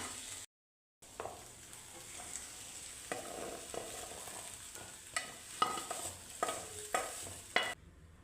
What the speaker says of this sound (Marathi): आता हे लसूण, कांदा, टोमॅटो हे एकत्र भाजून घ्यायचं आहे.